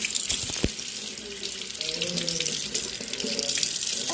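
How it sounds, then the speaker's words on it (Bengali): Hands are washed under a running kitchen tap, the water splashing steadily and close with a sharp knock near the start and faint voices in the background. "তাহলে হাত ধুয়ে নাও, হাত ধুতে চাইলে যে।"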